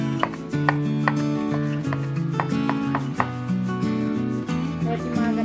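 Knife cutting peeled shrimp on a board while making corn soup with shrimp and egg, with a series of quick irregular chops heard over steady background music, close and moderately loud.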